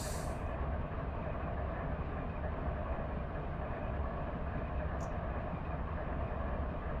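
A train departs a rail yard with a steady, continuous low rumble and rolling noise that holds at an even level throughout, with one brief faint high tick partway through and no one talking.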